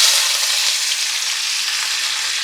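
Onions sizzle loudly in hot oil in a pan for Telugu-style mutton fry, a steady close-up broadband hiss with a faint low hum beneath and no talking.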